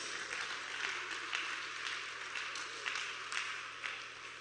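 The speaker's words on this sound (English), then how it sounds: "please let us give a round of applause to all our teachers" An audience at a teachers' leadership conference applauds with a steady wash of clapping and a few louder swells, set against a faint low hum from the hall.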